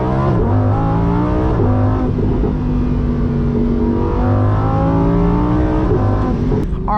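A Lamborghini Huracan Sterrato pulling away, its engine rumbling loudly up close in the cabin and climbing through revs, with a shift-like dip near the start and a steady rising drone after.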